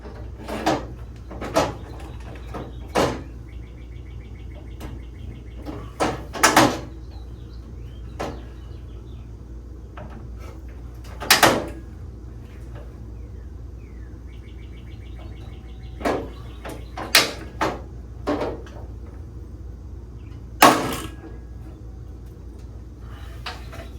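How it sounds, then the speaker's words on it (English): A big rivet gun sets quarter-inch rivets into a 9C1 Nova front door, giving sharp, isolated metallic pops and clicks spaced irregularly against a quiet background. "I've got my big rivet gun"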